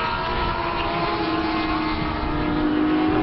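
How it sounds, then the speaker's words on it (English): Endurance-spec Yamaha YZF R1 race motorcycle lapping the Anglesey circuit, a steady continuous engine drone held at a constant pitch throughout, fairly loud with no pauses or voices. "Stephen Neat still out there on the YZF R1, the endurance spec R1, still leading in this race"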